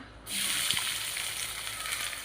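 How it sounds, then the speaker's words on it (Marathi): Sliced onion hits hot oil in a pan with a sudden loud sizzle that flares up at once and then holds as a steady bright hiss, close and with no voices. "कांदा भाजून घेऊया"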